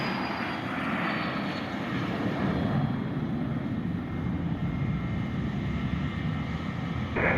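A Gulfstream private jet on runway 21 at Scottsdale airport produces a steady, broad engine roar, moderately distant and constant throughout, with no speech over it.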